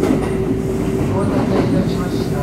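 An express train bound for Isuzugawa rushes through Kawachi-Yamamoto station on a Japanese line while a stopped local waits, giving a loud, continuous close-up rumble of wheels and rails with faint clatter.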